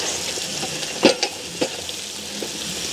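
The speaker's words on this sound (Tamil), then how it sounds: "பச்சை மிளகாய் வந்து கீறி வச்சுருக்கிறோம் அதையும் போட்டுக்கொள்வோம் இப்படி இருக்க கலந்து விடுவோம்" Slit green chillies fry in oil in a biryani pot, a steady close sizzle with a few scraping stirs of a spoon against the pot, no talk.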